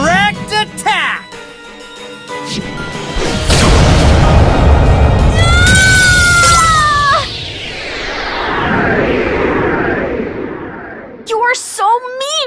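A direct attack in the card-battle game Yu-Gi-Oh Duel Links: a loud, sustained booming impact blast with rising synthetic tones, framed by shrill character voice cries at the start and end.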